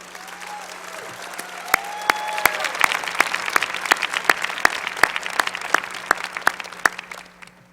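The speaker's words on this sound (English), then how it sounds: "please applaud for the platform party" Sustained applause from a commencement audience greeting the platform party at a winter graduation ceremony, dense and steady with sharper individual claps standing out throughout, without talk.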